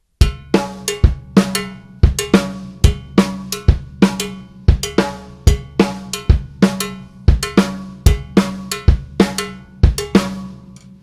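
Drum kit playing a slowed-down songo groove, with sharp, evenly spaced cowbell-like accents over kick and snare in a steady repeating pattern, close and loud with no voices.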